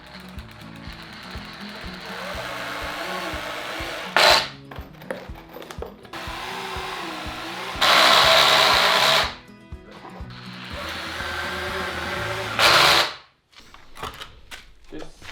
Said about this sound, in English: And now I just have to put screws everywhere and screw it all up.